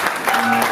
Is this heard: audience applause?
yes